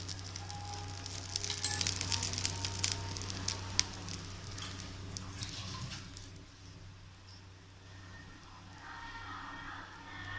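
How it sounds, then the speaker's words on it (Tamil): A beetroot masala dosa sizzles on a hot pan after oil is drizzled around its edge, a faint crackling and spitting that is busiest at first and then settles into a quieter, steady hiss. "நம்ம தோசையை சுற்றி கொஞ்சம் ஆயில் கொஞ்சம் அப்ளை பண்ணிக்கலாம்"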